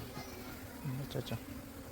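Honeybees buzzing in a steady, close swarm drone as they are scooped out of a plastic can into a wooden hive box, with a few louder swells and faint voices beneath.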